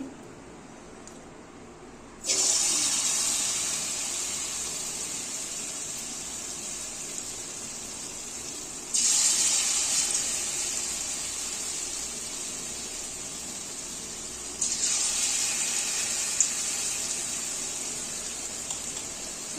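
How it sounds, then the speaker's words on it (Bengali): Bottle gourd fritters drop into hot oil in a kitchen, and each batch sets off a loud, steady sizzle. Three bursts of frying follow one another and settle into a continuous hiss, with no talking. "এখন আমি বড়া ভাজবো এটা দিয়ে তার জন্য আমি তেলটা এখানে গরম হতে দিয়েছি আগের থেকেই এখন আমি এটার মধ্যে দিয়ে দিচ্ছি"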